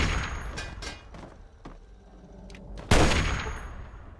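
Gunfire in the video game Fallout 3, a few scattered moderate shots followed by one sharp, louder blast near the end, with no talking over it.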